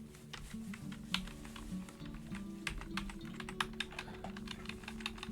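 Rapid, irregular clicking of keys on a computer keyboard, typed in short bursts at close range, with a faint steady hum underneath and no voices.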